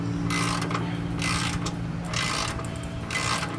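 Ratchet wrench tightening rear brake caliper bolts on a Nissan Xterra: steady close clicking of the pawl in four repeated strokes, each a burst of rapid ratcheting over a constant low hum, no voices.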